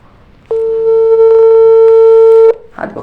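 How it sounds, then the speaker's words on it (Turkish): A phone call ringing tone: one steady electronic ring tone lasting about two seconds, loud and alone, followed by a brief noise as the line picks up. "haydi bakalım Toyur arkadaşımızı arayalım"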